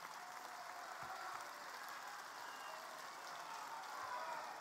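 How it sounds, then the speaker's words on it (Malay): A large crowd at a party assembly claps for a hero, a continuous wash of applause heard from some distance, fairly faint and even throughout. "Kita bagi tepukan kepada"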